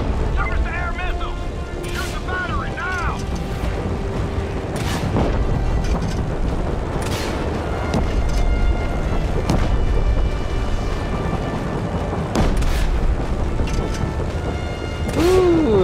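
Explosions in the open-world action game Just Cause 3 boom repeatedly over a dense rumbling background of in-game destruction, with sharp blasts recurring every second or two.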